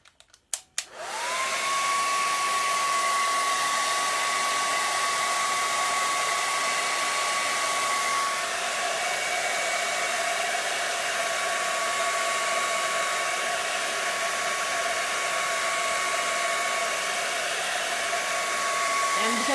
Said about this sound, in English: So I'm going to get my dryer again.